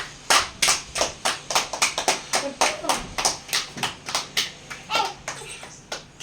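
Children clap in a burst of sharp, uneven claps after the banana challenge winners are announced, with some kids' voices mixed in.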